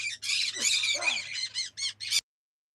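Loud, harsh bird squawks in a rapid series of bursts, close up, ending abruptly in silence.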